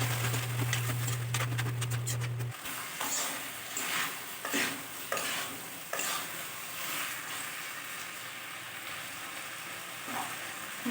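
Chicken pieces for chicken kosha frying in a pan as grated tomato is stirred in, a steady close sizzle with scraping stir strokes; a loud low hum fills the opening two seconds before cutting out.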